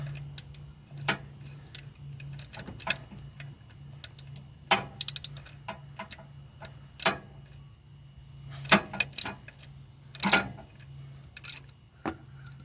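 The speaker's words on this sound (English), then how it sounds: "We're gonna loosen the alternator bolt." A ratchet loosening the alternator bolt on a Toyota during a VVT-i solenoid replacement, sharp clicking bursts spaced irregularly over a steady low hum, close and crisp, with no one talking.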